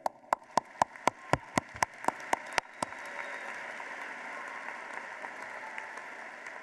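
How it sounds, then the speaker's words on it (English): At a university commencement ceremony, about ten sharp single claps ring out in a steady rhythm, then give way to a softer, scattered patter of applause from the graduation audience. "Let's clap it up."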